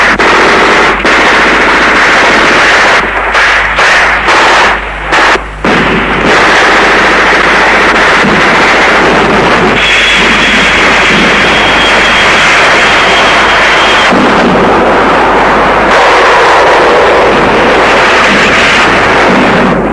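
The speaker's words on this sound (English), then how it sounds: "comes under ferocious artillery bombardment" Archival war footage of the Nigerian Civil War near Port Harcourt captures a ferocious artillery bombardment. Loud, dense machine-gun bursts and shell blasts fill the whole stretch, with heavy rumbling between the rapid volleys.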